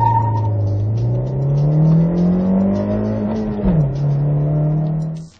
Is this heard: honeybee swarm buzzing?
no